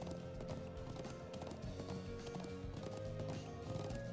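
A horse galloping in Trails of Cold Steel, a steady rapid clip-clop of hooves running continuously at moderate distance over game music, with no talking.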